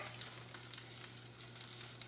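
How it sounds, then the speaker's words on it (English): Steady, crackling sizzle of asparagus frying in a hot pan, close and continuous with small pops scattered throughout. "You can hear it sizzling."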